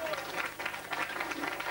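An audience at a ceremony honouring a grand master in the Pays des Collines claps steadily, a dense, even patter of many hands heard at modest volume with faint voices mixed in.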